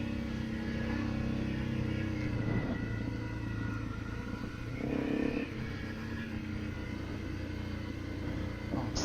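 A Honda CRF250L Rally dual-sport motorcycle climbing a steep hill, its engine droning steadily and continuously up close, with rumbling rises in effort.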